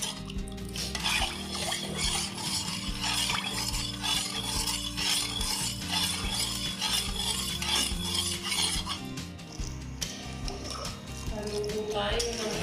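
A utensil stirring a coffee jelly gelatin mixture in a pot, with continuous rhythmic metallic scraping and clinking throughout, steady and close.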